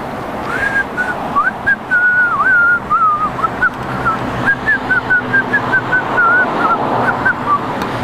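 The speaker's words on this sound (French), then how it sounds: "Vous arrivez à siffler?" A person whistles a wandering tune in a steady series of short, bright notes with brief breaths between them, over a low background hum, in Tokyo.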